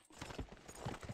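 Horse hooves clip-clopping in the Western shooter game GUN, a steady trotting patter close by over a short stretch.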